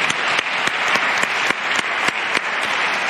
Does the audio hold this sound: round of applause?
yes